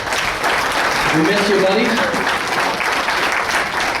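Guests at a birthday celebration give Justin a loud, sustained round of applause, thick clapping filling the room while a voice speaks over it.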